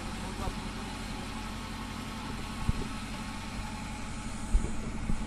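A vehicle engine idles close by with a steady low rumble that runs throughout, broken by a few soft knocks, while faint voices murmur in the background.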